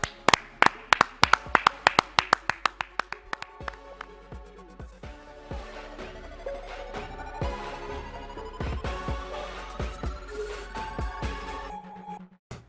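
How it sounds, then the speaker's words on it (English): Rhythmic hand clapping from podcast hosts sign-off, sharp close claps at first, then continuing under a rising tonal sound and busy background, ending abruptly. "Clap it up"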